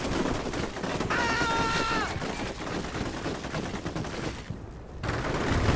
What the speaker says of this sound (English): I want to see the gunfight going on here.